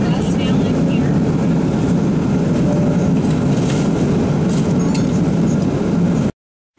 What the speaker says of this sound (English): Stepping into the air train to take me to my gate.